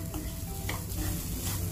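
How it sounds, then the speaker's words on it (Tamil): Semolina and grated coconut roast in ghee for rava burfi, a soft continuous sizzle with a scraping stir of a spoon through the pan, close and fairly quiet. "அடுத்து இதில் பார்த்திங்கன்னா, அது பாதி அளவு வறுபட்டதுக்கப்புறம் இதிலே வந்து தேங்காவையும் ஆட் பண்ணி ஒரு 2-3 நிமிஷம் எகெயின் வந்து நல்லா வறுத்துடுத்துக்கலாம்."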